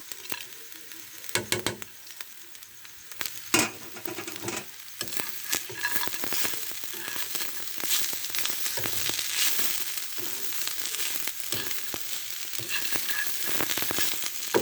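Khichuri with peanuts, lentils and eggs fries and is stirred in a pan, a steady sizzle broken by repeated scraping and clinking strokes of the spoon, close up with no voices.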